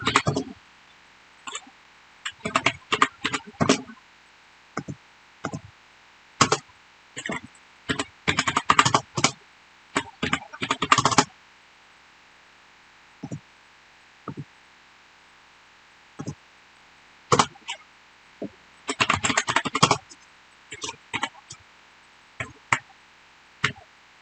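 Keys on a computer keyboard clatter in quick irregular bursts with pauses between them, close and crisp against a quiet background hiss.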